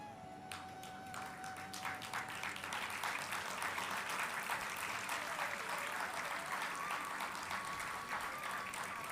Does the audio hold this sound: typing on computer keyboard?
no